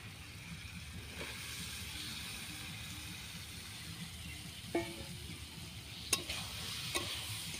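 Prawn curry with boiled potatoes is stirred in a pan, a soft steady scraping and low sizzle with a few sharper spoon clacks near the end, quiet and without talk.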